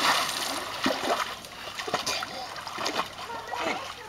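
Water splashing as an elderly man swims among waves, with irregular splashes and sloshes at moderate distance over a constant rush of water, and voices talking in the background.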